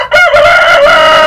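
A young heritage-breed chicken in a backyard free-range flock crows once, loud and close, a sustained harmonic call with no talk over it.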